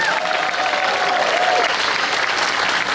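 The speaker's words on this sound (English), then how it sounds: "A round of applause for volunteers." A large outdoor crowd at an AIDS Walk opening ceremony in Central Park applauds the volunteers, a thick continuous roar of clapping with a faint whistle or cheer rising briefly over it.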